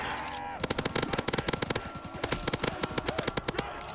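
Rapid bursts of automatic gunfire from a points gun in a custom zombies game mode, fast rhythmic volleys with brief pauses, loud and close with no speech.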